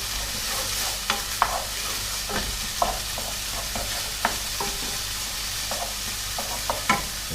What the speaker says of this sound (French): en fait revenir mon oignon haché pendant à peu près 3-4 minutes